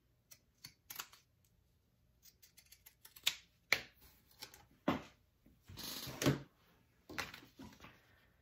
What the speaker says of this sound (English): I would highly, highly suggest using pinking shears on this curve